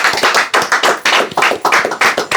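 An audience applauds a performer after a live acoustic performance, a dense, loud patter of hand claps arriving in uneven surges that swell and fade across the whole stretch, with no voices over it.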